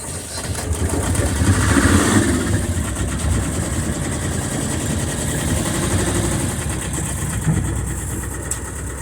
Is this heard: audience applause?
no